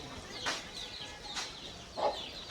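Free-range village hens and chicks on a farm give three short, separate clucks and calls at moderate distance over a quiet outdoor background.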